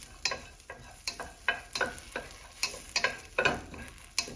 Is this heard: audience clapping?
no